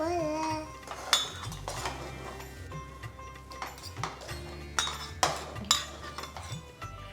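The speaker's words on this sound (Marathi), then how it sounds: "गॅस करूया बंद त्याला थोडस मिक्स करूया" A spoon scrapes and clinks against a pan as cooked semolina is stirred, making irregular knocks and scrapes at close range. Faint voices sound in the background.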